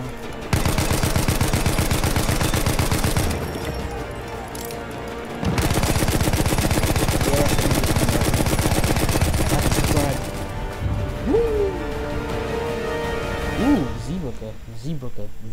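Rapid automatic gunfire from a Battlefield 1 match in a Gallipoli campaign setting, loud bursts of machine-gun and rifle fire that run for several seconds, pause, then resume, with scattered shots and voices near the end.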